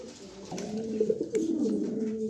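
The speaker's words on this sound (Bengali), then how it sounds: "কবুতর জোড়া একটু ভয়ে আছে" A pair of Ludu pigeons coo softly in repeated low, wavering phrases, close and steady, with no voices over them.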